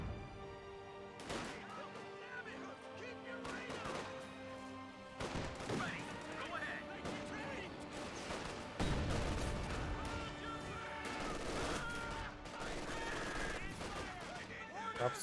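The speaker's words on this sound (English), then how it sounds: "Great mortar hit there." Mortar impacts and battlefield gunfire in Company of Heroes 2, a dense wash of explosions and rattling shots with a heavier low boom partway through, mixed under voice chatter.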